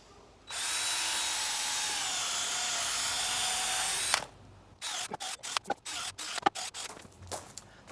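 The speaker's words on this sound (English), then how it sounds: "This step drill bit works pretty well for that." Step drill bit boring a half-inch hole for a self-healing target: a loud, steady power-drill whine lasting about four seconds, then stops, followed by scattered clicks and handling knocks.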